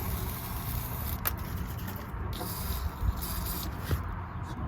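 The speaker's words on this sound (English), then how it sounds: "you need your WD-40." WD-40 being sprayed on the exhaust bolts of a Hyundai Veloster N during a Borla ATAK exhaust install: a few short hissing spray bursts over a steady background hum, fairly close.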